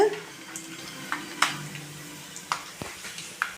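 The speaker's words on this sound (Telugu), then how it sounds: "పల్లీలు ఇవి కాస్త వేగనివ్వాలి ఇవి వేసుకొని కాస్త వేయించుకోవాలి ఫస్ట్" Peanuts frying in a pan for mango pulihora, a soft sizzle underneath with scattered sharp clicks and taps as they are stirred, close and moderate, with no talking.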